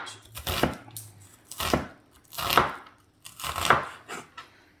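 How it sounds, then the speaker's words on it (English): A knife slices through an onion on a cutting board in four distinct crisp cuts, each a short crunchy thud at a slow, even pace, close and without talk. "cut down the onion, and then you're going to slice across finally"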